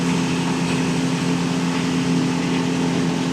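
A Hidea 60 hp EFI outboard motor drives a boat at about 5000 rpm and 24 knots, a steady, loud, unbroken engine drone with a constant pitch and a rushing wash of water and wind.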